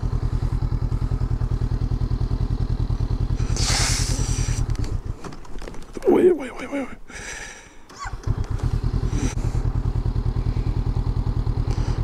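Honda CB500X motorcycle climbing a very steep slope, its engine droning steadily and close, then faltering with clatter and thumps midway as the bike nearly tips, before the engine resumes; a rider speaks briefly.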